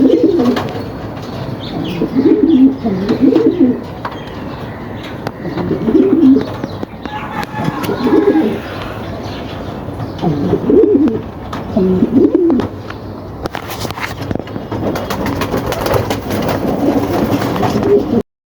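A pair of pigeons, a male from 2022 and a female from 2023, coo in repeated close, throaty bursts separated by short pauses, with light rustling between calls.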